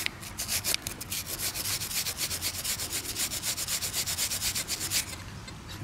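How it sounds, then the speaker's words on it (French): A brush scrubs a muddy coin dug up while metal detecting, making a close, rapid rhythmic rasping that repeats in quick even strokes and fades out at the end. "La super brosse de Fred, de la bonne couleur."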